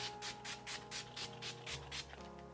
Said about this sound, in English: spray it with the fixing spray from Golden Rose.